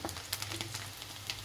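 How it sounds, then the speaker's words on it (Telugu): Mustard seeds crackle and sizzle in hot oil for a home tempering, a steady dense hiss with scattered sharp pops that runs without a break and stays close. "ఇంకా పోపు గింజలు అయితే వేసిండు, సుయ్యి సుయ్యి అంటుంది"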